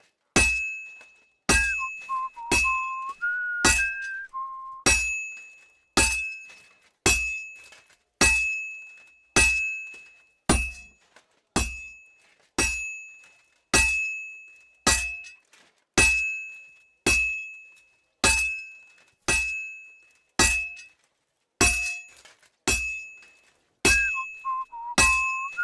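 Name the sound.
forging weapons in the video game Kingdom Come Deliverance II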